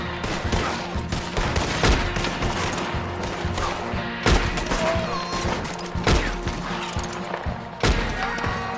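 Repeated gunfire from a Red Dead Redemption 2 shootout, loud bursts and single shots crackling through a dense, chaotic battle mix over nearly nine seconds, with brief shouted voices mixed in.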